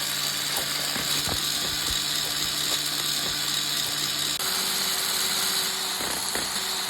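An electric mixer beats whipped cream powder with cold milk in a bowl, a loud, steady mechanical whir with rattling, ticking contact sounds and a slight shift in pitch midway, with no talking.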